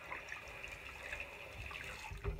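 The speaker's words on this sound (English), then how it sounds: "then I'm gonna wash my hands" A bathroom tap runs while hands are washed, giving a faint, steady hiss of flowing water with soft splashes that lasts a couple of seconds and has no speech over it.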